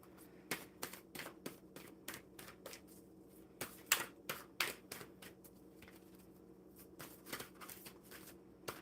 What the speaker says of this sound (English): I don't think I shuffled these quite properly. Let's do them 3 more times again.